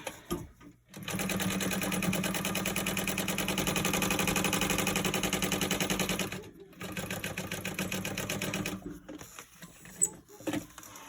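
A sewing machine stitches across a card slot panel for a crossbody bag, running in a steady, loud, rapid mechanical rhythm for several seconds, pausing briefly, then resuming before tapering off.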